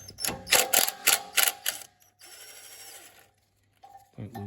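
A ratchet wrench with a 10 mm socket loosening a bolt on a car's front brake and suspension, a quick run of loud clicking ratchet strokes followed by a smoother whirring spin, close up with no talking.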